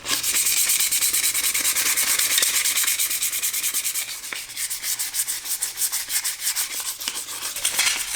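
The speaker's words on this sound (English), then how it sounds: "We'll scuff up the outside, get all this poop off of it" Steady rhythmic abrasive rubbing as the outside of an Evo 9 brake booster is scuffed with sandpaper before painting, close and continuous with no talking.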